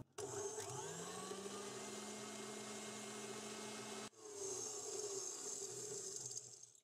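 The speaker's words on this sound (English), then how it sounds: "So we're just going to continue with the whipping and scraping now" Electric hand mixer whipping a chamomile and clary sage body butter, a steady loud motor whine that cuts out briefly and starts again, with faint scraping under it.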